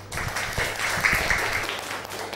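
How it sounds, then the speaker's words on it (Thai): A classroom of students claps together in a brief burst of applause, a dense patter of many hands lasting a couple of seconds, heard fairly close. "เอาปรบมือกับเพื่อนค่ะ"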